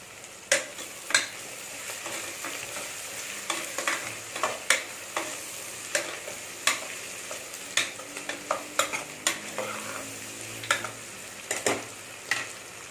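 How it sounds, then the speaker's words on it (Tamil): Ingredients sautéing with salt in ghee for a Dindigul Thalappakatti style mutton biryani: a steady close sizzle with regular, rhythmic spoon scrapes against the pot, repeated many times. "கொஞ்சமாக உப்பு போட்டு வதக்கிக்கோங்க"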